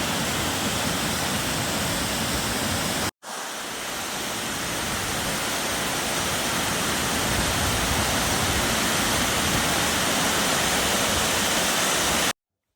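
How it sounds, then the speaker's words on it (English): A steady, roaring rush of water from a series of waterfalls on a blue river in the Albanian mountains near Peshtan, broadband and continuous, broken only by a brief cut early on. "And now there's a whole set of waterfalls"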